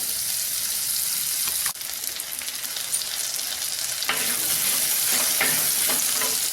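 Onions with turmeric fry in a pan for a Kerala onion tamarind curry, a steady loud sizzle broken by a couple of sharp utensil knocks against the pan.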